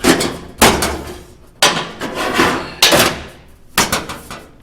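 A new steel floor pan for a 1972 Chevelle drag car is set into place, giving four loud metallic clanks and thumps at roughly even intervals, each ringing briefly before fading.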